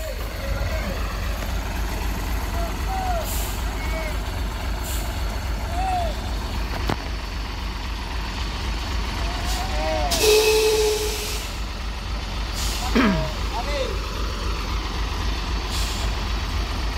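A truck idles with a low engine rumble while air brakes hiss in short bursts during preparations to tow a truck, with faint tonal beeps and occasional voices in the background.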